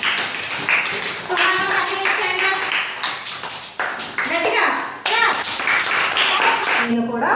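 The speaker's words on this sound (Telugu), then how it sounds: "ఒకసారి వాళ్ళిద్దరికి క్లాప్స్ కొట్టండి" Schoolchildren clap for two classmates who presented a project, a scattered burst of hand claps mixed with children's voices and a teacher talking over it, loud and close in a classroom.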